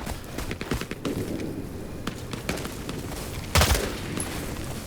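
M16 rifle fire in the Vietnam War video game Hell Let Loose: Vietnam, rapid cracking shots and bursts repeating over steady battlefield noise, with one louder close shot near the end.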